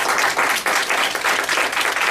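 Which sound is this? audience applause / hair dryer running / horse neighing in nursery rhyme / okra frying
audience applause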